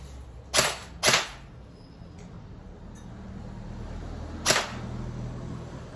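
Three sharp snapping shots from an LT 19T G2 ME airsoft gun fired through a chronograph, two close together then one more after a pause, each a crisp, loud crack over quiet room noise.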